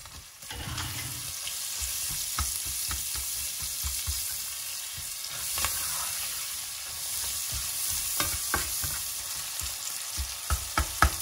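Onions and chillies sizzle steadily in a pan for a yogurt soup, with repeated scraping and clacking of a utensil as they are stirred, close and continuous.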